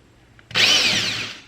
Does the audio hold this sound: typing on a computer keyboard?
no